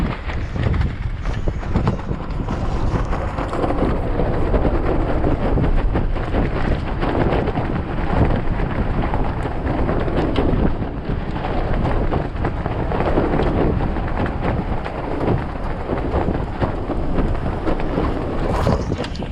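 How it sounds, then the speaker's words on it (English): Strong desert wind storm roaring steadily and loudly against the microphone, a dense continuous buffeting rush with gusts and occasional clattering, outdoors amid blowing dust, no talking. "It's pretty windy."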